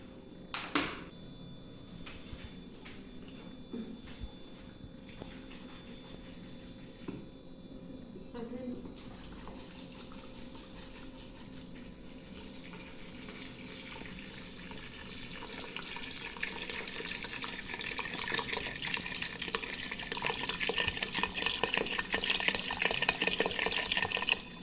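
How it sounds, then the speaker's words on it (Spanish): Tap water runs into a cooking pot in a kitchen, a steady rushing stream that grows louder and brighter as the pot fills, with a few clunks at the start and speech in places. "Y ya ahorita le vamos a echar el agua"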